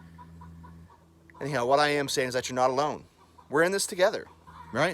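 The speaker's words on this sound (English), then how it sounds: "I don't know if you can hear my chickens singing in the background or not." Backyard chickens cluck steadily in the background, a little distant, while someone talks over them for most of the clip, the clucking heard most clearly in the pauses between his words.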